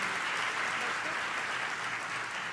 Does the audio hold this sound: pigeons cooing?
no